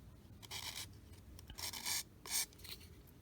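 A small plastic part from a 1/48 Eduard Bf 109E-3 model kit is sanded in short, quiet rasping strokes, four or five brief scratchy bursts separated by pauses, close up.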